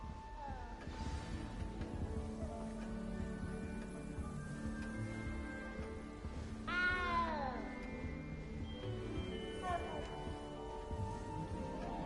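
A cat meows in the video game Hogwarts Legacy, a clear rising-and-falling call near the middle, heard over layered game music and ambience.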